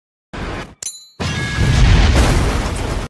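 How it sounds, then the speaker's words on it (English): A bomb planted under a vice president's backup vehicle explodes in a film scene, a sudden loud boom after a brief bright crash, followed by a sustained heavy rumbling roar with debris noise. "Moments later, the vice president's backup vehicle arrived, but Ivan had secretly planted a bomb underneath it"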